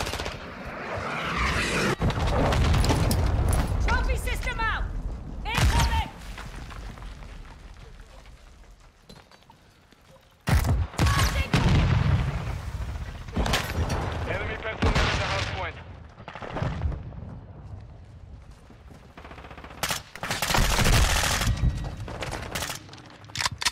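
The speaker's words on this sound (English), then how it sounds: "Friendly cruise missile approaching target." A friendly cruise missile strike lands in a Modern Warfare II multiplayer match, loud booming impacts among repeated bursts of gunfire and machine-gun chatter, with radio voice callouts over the combat.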